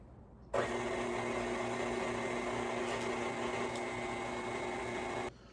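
An electric mixer beats eggs into cake mix for a tres leches cake, switching on with a sudden steady whirring motor hum that holds for about five seconds before cutting off.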